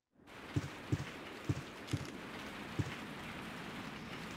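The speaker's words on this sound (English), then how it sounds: "Still raining outside." Steady rain in the video game Bio Hazard 3 hisses throughout, with a few soft, low thuds spaced irregularly beneath it.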